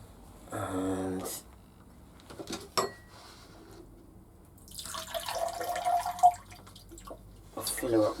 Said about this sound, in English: I'll fill her up with water